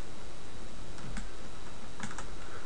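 A few sharp clicks from a computer keyboard, as keys are pressed in a 3D modelling program, sound close by over a steady hiss.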